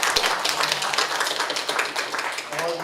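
An audience at a Won Buddhist mind-study talk concert claps for a speaker, a brief burst of steady, fairly close applause that fills the short moment.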